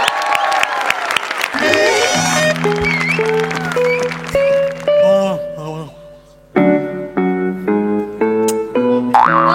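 Audience applause at a Marathi TV comedy show, a broad clapping wash buried under loud jingle music with boing-like tonal effects and bright cartoonish stings.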